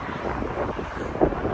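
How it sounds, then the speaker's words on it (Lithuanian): Outdoor wind gusts buffet the microphone near a parking area during a long walk, a rough low rumble that swells briefly toward the end, with no voices. "Oi, kaip gerai vėjelis"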